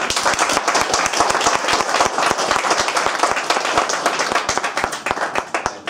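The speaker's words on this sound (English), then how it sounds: "You can give a round of applause." A small audience claps for a speaker after a lecture on sharia and justice, with distinct individual hand claps, fairly close and loud, thinning slightly near the end.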